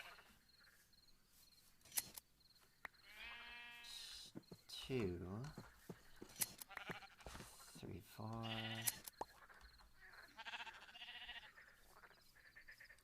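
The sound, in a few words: sheep bleating in a video game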